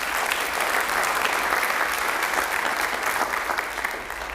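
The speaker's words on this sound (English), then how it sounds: "Please give them a round of applause." A crowd claps steadily and loudly for several seconds at a sheriff's office awards ceremony, a dense wash of applause that tapers slightly at the end.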